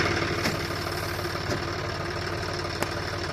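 A John Deere 5210 Gear Pro 4x4 tractor idles with a steady, deep rumbling drone and faint knocking, close and continuous, with a few light clicks over it and no voices.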